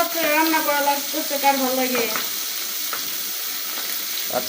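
Fish frying in a pan at night in a home kitchen, a steady crackling sizzle with stirring scrapes throughout, while someone talks over it at first.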